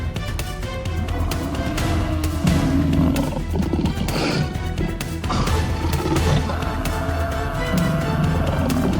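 A lioness roars and snarls as she charges her prey, loud and close over a dense rumbling scuffle, with heavy thumps and growls building through the middle.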